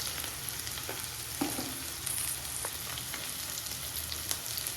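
Noodles fry in a pan as masala is stirred in, giving a steady close sizzle with a few soft scraping strokes of the spoon throughout, no voices.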